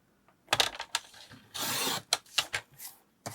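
Paper being trimmed down to 4 inches for a 6x8 December Daily scrapbook album, a quick run of close, crisp snips and rubbing strokes, with one longer slicing sweep in the middle, no talk.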